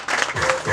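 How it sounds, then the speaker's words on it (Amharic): A church congregation breaks into loud, dense applause, many hands clapping at once in a brief burst that fills the room. "አጨብጭቡ ለጌታ ክብር።"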